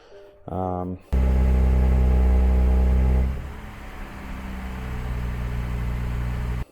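A 2024 Nissan Z with an aftermarket axle-back exhaust idles with a deep, steady rumble, loud at first, then settling into a quieter, even drone after a few seconds.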